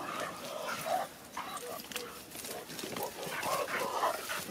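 Istrian and Porcelaine hunting hounds bay in the field during a hare hunt, scattered yelps and barks at middle distance over outdoor noise, with people talking in the background.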